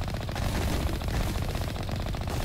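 Rapid machine-gun fire from the Mako vehicle in Mass Effect striking mud and ashy dirt, a dense continuous rattle of shots with booming low rumble that holds steady throughout without pause.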